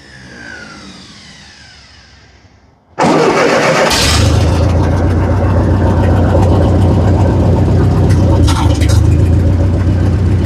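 A Massey Ferguson TO30 tractor engine cranks and catches after a few quiet seconds, then runs loudly and steadily at a rough idle close to the listener.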